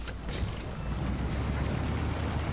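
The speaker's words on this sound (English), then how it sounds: "That is a heavy truck engine." Heavy truck engine in the SnowRunner video game, set in Alaska, a steady low rumble that stays loud and constant throughout, with no voices.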